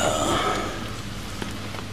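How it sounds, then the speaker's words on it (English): Rain falls outside in a steady, soft hiss of drops on surfaces, brief and continuous with no voices. "right now it's raining"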